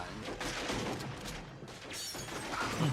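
Pyrotechnic fireworks explosions on a film set from Road House, a dense, continuous crackle and rumble of bursts filling the whole stretch at steady loudness.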